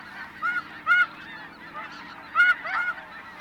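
A flock of blue-phase snow geese honking, repeated nasal calls coming in a few loud bursts over softer background calling, with no voices heard.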